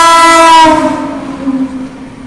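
A loud, close horn blast from the 20805 Andhra Pradesh Express, heard from inside a general coach during a monsoon run, cuts off after about half a second and leaves the rumble and clatter of the moving train.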